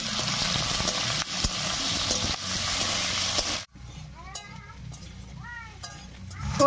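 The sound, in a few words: potatoes frying in hot mustard oil with cumin and bay leaf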